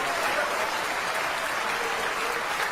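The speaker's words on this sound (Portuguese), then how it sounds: "Vamos aplaudir mais ao nome de Jesus." A church congregation applauds during a service, a dense, steady wash of clapping from many people throughout, fairly loud and continuous with no speech over it.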